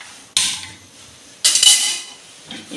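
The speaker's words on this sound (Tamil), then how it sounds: "இது சாம்பார் வைக்கிறதுக்காண்டி இந்த பானையை வச்சுருக்கேன்" A cooking pot for sambar is set down with two sharp metallic clunks, each followed by a short ringing clatter, then a faint third knock at the end, close and with no talking.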